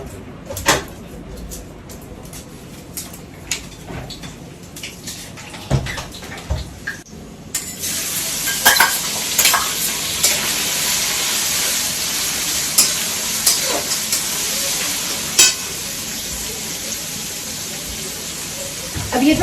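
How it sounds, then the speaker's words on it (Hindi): Whole spices drop into hot oil in a kadhai. Scattered clinks and knocks come first, then a strong, steady frying sizzle swells up close with stirring clatter over it. "अब ये जो खड़े मसाले थे ना जो मैंने निकाले थे, इसको हम डालेंगे कढ़ाई में, वही गरम तेल में"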